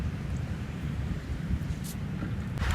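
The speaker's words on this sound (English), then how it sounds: "it's really windy up here today," Gusty wind on an Iowa hilltop buffets the microphone in a steady low rumble, with brief louder gusts near the end and no other sounds.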